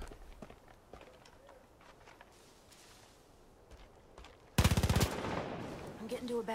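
A heavy gun in a video game lets loose a sudden, loud rapid burst after a stretch of quiet background. The dense firing then trails into sustained noisy rumble.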